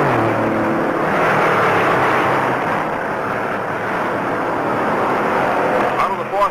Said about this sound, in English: Roaring down the backstretch, 68 cars play follow the leader at 150 miles an hour.